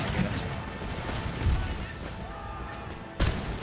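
Troops firing musket volleys in the Empire Total War video game (Darthmod), heard as dense, continuous battle rumble with booming shots, a heavier blast near the end.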